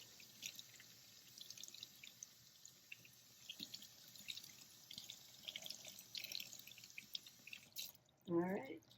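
Water runs from a tap over a doll's hair as it is rinsed at a sink, giving a faint, uneven trickle and splashing patter, then a brief louder burst of handling noise near the end.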